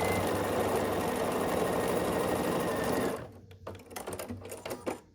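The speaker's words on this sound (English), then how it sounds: "So you just sew these rows together" Sewing machine stitching together the pieced rows of a quilted Christmas stocking, a loud steady motor whir for about three seconds, then stopping into quieter handling clicks and rustles.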